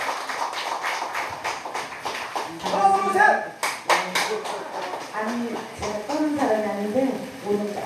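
Applause from a crowd, with scattered claps building into denser clapping amid voices and some musical tones; moderately loud and close.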